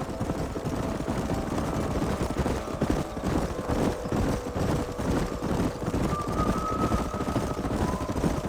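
Horses galloping in the video game Red Dead Redemption: a steady, continuous drumming of many hooves at moderate loudness, with a low rumble underneath throughout.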